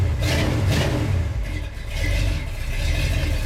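A Ford engine runs loud and steady after a cold start, held below about 2,000 rpm with a rough, clattery tone and a constant low rumble throughout.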